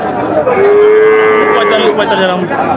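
A cow with a calf gives a long, loud, drawn-out moo close by, with another lowing faintly behind it amid busy noise at a cattle market in Chougachha.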